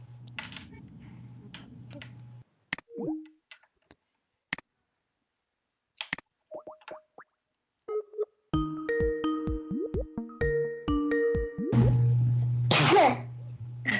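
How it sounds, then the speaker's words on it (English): Someone sneezes, a sharp close burst amid keyboard clicks and a quiet call connection, followed by scattered tapping and electronic tones. "but when someone sneezes,"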